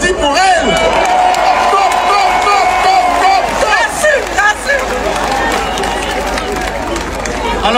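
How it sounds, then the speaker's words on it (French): An outdoor political rally crowd cheering, shouting and clapping in a dense, sustained roar, with voices rising and falling throughout. "on va applaudir pour elle"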